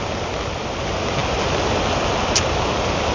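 Heavy monsoon rain pours steadily over a village, a dense, loud, continuous broadband roar with no pauses, close and enveloping, with no one speaking.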